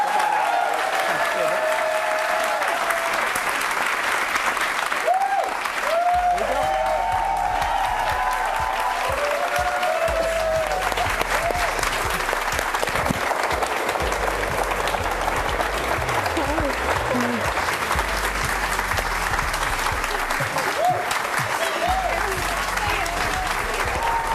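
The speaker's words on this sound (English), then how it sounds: "give a round of applause to AJ's match, Alex Momedy" A morning-show studio audience applauds warmly and continuously for a bone marrow donor, the dense clapping running on for a long stretch while people talk over it and a few cheers rise.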